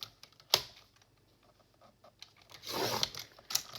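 Scissors cut through paper from a 12x12 paper pack, making a few soft crisp snips and a longer rustling, tearing sweep near the end as a strip comes off, close and quiet with no talking.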